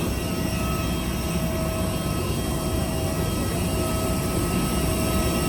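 A loud, steady airplane engine roar with a high whine on top holds constant throughout takeoff from Bangkok, with no voices.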